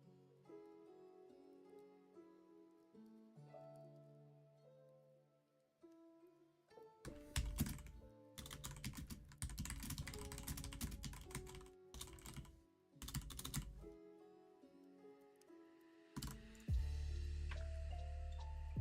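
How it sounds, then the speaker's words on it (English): Heavy-handed typing on a computer keyboard, rapid clattering keystrokes in dense bursts with brief pauses, following a stretch of soft melodic music. "I'm such a heavy-handed typer."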